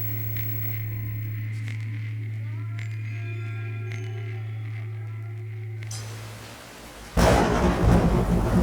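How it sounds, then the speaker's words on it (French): Rain with thunder in Afghanistan: a steady low rumble and hum holds for about seven seconds, then a loud burst of broadband rain noise takes over near the end. "Nous subissons notre première pluie en Afghanistan."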